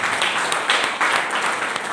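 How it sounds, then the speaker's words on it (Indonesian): A church congregation claps in praise of Jesus during a sermon, a dense, steady wash of many hands filling the room for about two seconds with no voice over it. "Tepuk tangan buat Tuhan Yesus."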